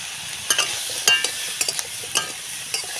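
A vegetable curry cooks in a pan, with sharp stirring clicks and scrapes at irregular intervals over a faint, soft sizzle, close and with no talking.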